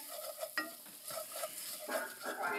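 Chili powder sizzling and frying in hot oil in a pan, with a steady close crackle and stirring scrapes throughout, fairly quiet and without any talking.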